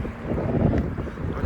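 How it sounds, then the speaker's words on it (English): Wind blows outdoors, a soft continuous rushing roar buffeting the microphone, with no one speaking. "It's windy out here"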